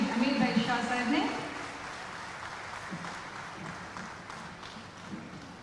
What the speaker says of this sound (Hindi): आओ जोरदार तालियों साथ आवकारिए आपना सौना आदरणीय माननीय केंद्रीय मंत्री श्री अमित भाई शाह साहब ने